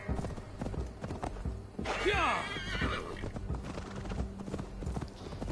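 A horse swimming in the video game Assassin's Creed Valhalla lets out a loud, wavering neigh midway, amid rhythmic clip-clop and splashing effects, with a voice talking over it.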